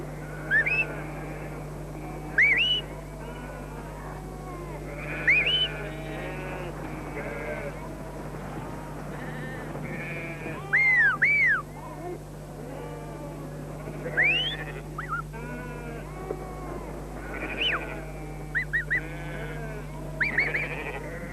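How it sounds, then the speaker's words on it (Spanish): A flock of sheep guided by a herding sheepdog, with repeated bleats near and far scattered over a steady low hum, while someone narrates throughout. "este perro pastor. Por medio de los silbidos de su amo, puede guiar el rebaño a donde el pastor quiera."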